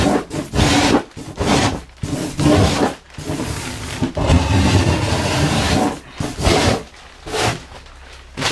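Foam surfboard bottom being hand-shaped into a concave with a rasp-like tool, giving repeated even rubbing and filing pulls, each scrape a few seconds long with short pauses between, close and fairly loud.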